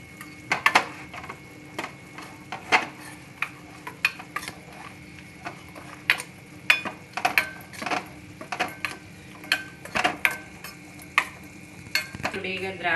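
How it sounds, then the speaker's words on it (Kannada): Raisins frying in a pan while making coconut ladoo, with a steady sizzle under repeated sharp clinks and scrapes of a spoon stirring against the metal, close and fairly quiet, no talking. "ನೋಡಿ ಈಗ ದ್ರಾಕ್ಷಿ ಫ್ರೈ ಆಯಿತು"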